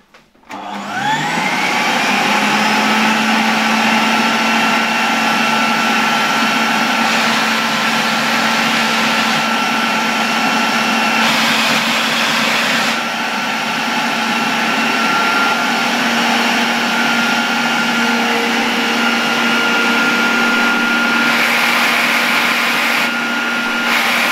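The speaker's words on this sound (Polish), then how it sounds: "Dobra, włączam odkurzacz do naszego regulatora." A Zelmer vacuum cleaner is switched on during a motor test after a type 300 motor replacement, spinning up quickly into a loud, steady whine with a strong hum that runs continuously.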